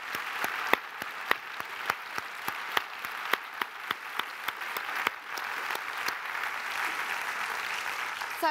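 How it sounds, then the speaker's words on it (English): An audience at a talk applauds a panel: a few distinct, rhythmic claps ring out loudly at first, then blend into a fuller, continuous round of clapping. "If you'd like to give them a round of applause."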